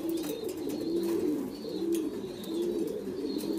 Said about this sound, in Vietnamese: Đây là những cặp chim bồ câu đang nuôi con này anh em